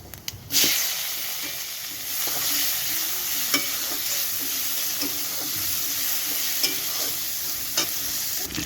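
Onions with black cumin and white cumin frying in hot oil, a steady close sizzle and hiss with occasional stirring clinks, heard alone without talk.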